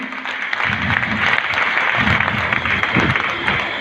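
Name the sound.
audience applause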